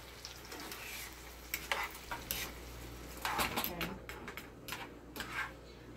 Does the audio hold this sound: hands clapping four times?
no